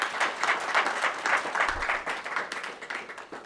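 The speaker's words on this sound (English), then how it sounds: "I just want to go ahead and give a round of applause for that" A round of applause from an audience at a public gathering, steady mid-level clapping from many hands that holds throughout and thins slightly toward the end.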